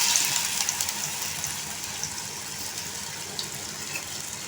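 Water pours and gushes into a pan of dried vanjaram fish curry with a steady, splashy flow, close by and moderately loud, with faint clinks; no one speaks.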